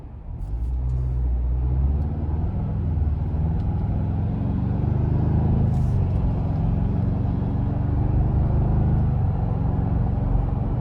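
Cabin engine sound of a 2026 Ford Bronco Outer Banks with the 2.3-litre engine under way, a steady loud low rumble with road noise that holds evenly throughout, heard from inside and with no voices.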